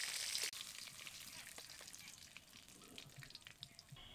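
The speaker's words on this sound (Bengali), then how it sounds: "এবার আমি বাকি মাছগুলো দিয়ে ভেজে নেব।" Fish fry in hot oil in a village kitchen, a soft continuous sizzle at low level with faint clinks, following a brief louder burst at the start.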